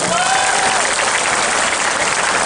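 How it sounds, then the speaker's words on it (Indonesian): A congregation at an Indonesian sermon claps loudly in a dense, continuous burst, with a faint whistle-like tone briefly audible at the beginning. "Tepuk tangan buat kita semua."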